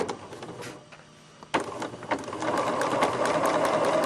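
A sewing machine stitches a straight line through fabric under light pedal pressure, starting with a couple of short bursts and then settling into a steady, fast mechanical whir that runs on to the end.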